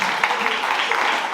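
Audience applause at a stand-up comedy show at INSA Toulouse, a dense continuous burst of clapping from a full room, loud and steady throughout the short moment.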